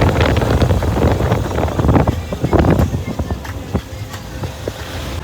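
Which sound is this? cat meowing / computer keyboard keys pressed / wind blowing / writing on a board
wind blowing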